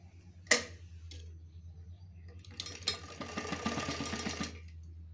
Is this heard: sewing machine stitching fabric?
yes